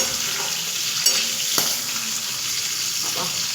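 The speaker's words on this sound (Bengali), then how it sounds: "ক্যাপসিকামটা খুব বেশি ভাজার দরকার নেই, হালকা একটু ভাজবেন" Capsicum sizzles steadily in oil in a pan over a raised gas flame, a continuous close hiss with a couple of faint clinks of a utensil.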